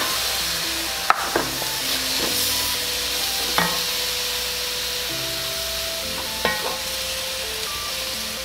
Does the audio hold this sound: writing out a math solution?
no